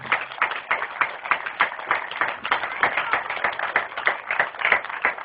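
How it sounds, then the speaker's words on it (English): An outdoor community family-day crowd claps for veterans, a light, uneven patter of hands with moderate loudness that continues throughout. "A big round of applause for all of our veterans."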